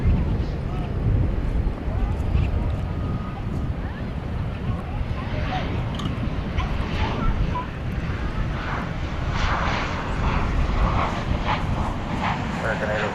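American Airlines Boeing 737-800 from Punta Cana at night at DFW Airport, a broad steady jet engine roar with wind noise, continuous and fairly loud throughout while someone talks over it.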